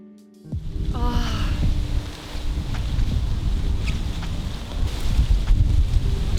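Strong outdoor wind roars and gusts steadily across the microphone throughout, buffeting loudly with a few faint higher tones in the background and no talking.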